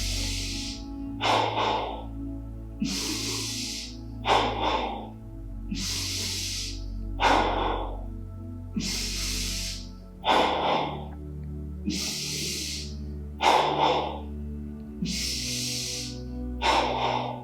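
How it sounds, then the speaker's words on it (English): Deep belly breaths during a guided yoga breathing round, a steady rhythm of about eight loud, forceful breaths with hissing inhales and exhales over a low droning background. "So, 30 breaths, second round, 10 in the belly to begin."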